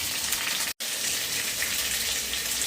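A steady, loud sizzling gush as tamarind water is poured onto shallots sautéing in oil for sambar, cut by one brief silent dropout, continuous and close with no talking.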